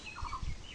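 A chicken at a rural homestead gives a short close cluck, a brief pair of throaty notes over quiet background.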